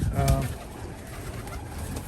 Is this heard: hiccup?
no